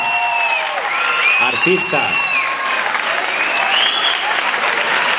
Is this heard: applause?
yes